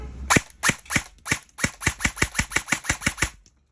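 A full metal E&C 311-1 AEG airsoft rifle fires on full auto, giving about fifteen sharp, rapid snapping shots close by, with a few short pauses early on before the burst runs steadily and then stops.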